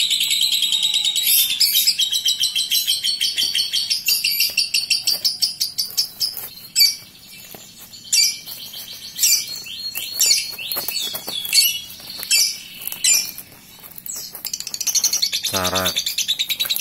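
A caged bird, recorded from above, chirps and sings in rapid high trills and tweets, close and fairly loud, with brief pauses between phrases and a steady faint background.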